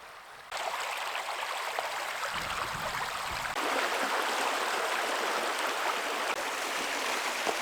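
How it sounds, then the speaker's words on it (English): A small secondary stream flows into a remote river beside shallow, snowy banks, making a steady close rush of water with a soft gurgle that runs without break and with no voices. "This is another little secondary river coming in, or a stream at least."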